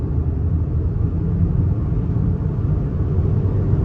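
A 2024 Ford Bronco Sport Badlands with a turbocharged four-cylinder accelerates at half throttle in 8th gear during highway passing, giving a steady, continuous low engine and road rumble with no break.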